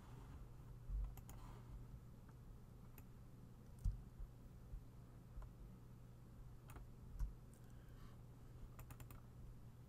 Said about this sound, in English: And we'll just type in there